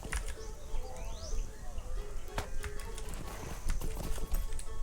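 Horse hooves clip-clop at a steady riding pace in the video game Lord of the Rings Online, with rhythmic thuds over a busy outdoor ambience of birds and faint background tones.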